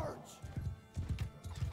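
A horse gallops in the medieval combat game Mount & Blade Bannerlord, with quick rhythmic hoof clip-clops and a brief whinny, heard faintly beneath a man's speech during a firefight.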